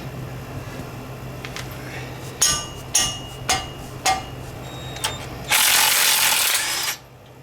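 An impact wrench with a swivel socket works the front wheel bearing bolts of a 2017 Ford Fusion. Several short, sharp clanks come first, then one loud, steady hammering burst about a second and a half long, close by.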